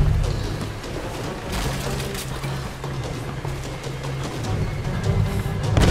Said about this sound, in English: Why are there explosives in this cave?